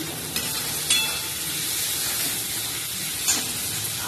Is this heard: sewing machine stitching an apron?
no